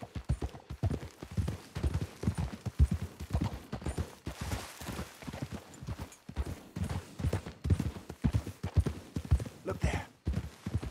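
Horse hooves clip-clop in a steady trotting rhythm in the video game Red Dead Redemption 2, close and clear throughout with light background ambience.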